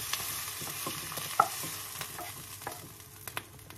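Chicken pancit canton stir-frying in a pan, a low, steady sizzle with soft scraping and stirring clatter and a few sharper utensil knocks, close and fairly quiet with no voices.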